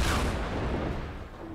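An egg launcher blast in Fortnite Battle Royale, one heavy explosion that booms at once and rumbles away over about a second and a half.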